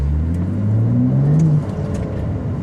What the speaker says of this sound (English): But what I really like is just the exhaust note